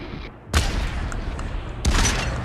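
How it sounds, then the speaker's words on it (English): Rifle fire in the VR battle royale game Population One: two sharp, loud shots about a second and a half apart, each with a short booming tail over a steady game background. "The rifle can be shot one-handed."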